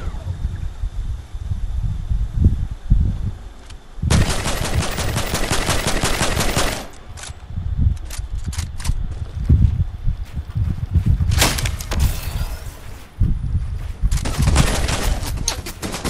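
Rapid automatic gunfire in the video game Fortnite, a duos battle royale match, with dense sustained bursts and scattered single shots over game ambience, fairly loud and close.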